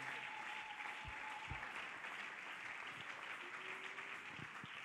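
A church congregation applauds the Lord during a sermon, a continuous wash of clapping from many hands that holds steady throughout, with a faint sustained tone behind it.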